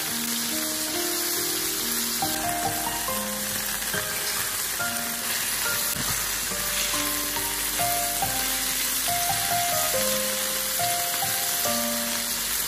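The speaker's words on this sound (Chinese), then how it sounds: "将鸡腿煎三分钟左右" Chicken legs frying in a pan, with a continuous dense crackling sizzle at steady loudness and no talking, while soft background music plays underneath.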